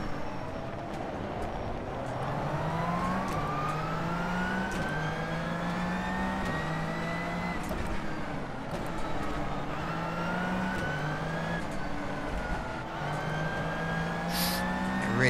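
A race car engine from the IMSA mod in rFactor 2 howls steadily and loud, its pitch rising through the gears and dropping at shifts, with brief gaps as it brakes and accelerates along a narrow street circuit at Detroit Belle Isle.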